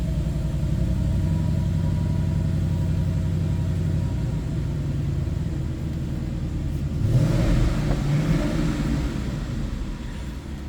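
A 2012 Ford Mustang GT Premium convertible idles with a steady low rumble, then briefly revs louder partway through before settling back to a smooth idle.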